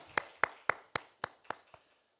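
A handful of slow, evenly spaced claps from a church congregation during an Easter Sunday service, seven sharp beats that fade slightly toward the end, fairly quiet and with no talk over them.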